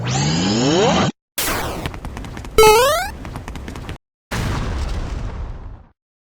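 A space laser in Final Fantasy XIV fires in a series of loud, close bursts, with booming blasts, a sweeping rising zap and a fading rumble, separated by short silences.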